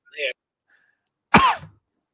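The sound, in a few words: cough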